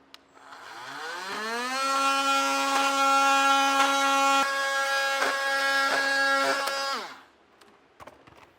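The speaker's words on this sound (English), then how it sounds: "I'm using a multi-tool, just a oscillating blade here, and we'll just cut through." An oscillating multi-tool blade cuts through Caliber ProTech smooth flooring with a loud, steady buzzing whine that spins up over the first second or two, holds for several seconds, then stops abruptly, leaving near silence.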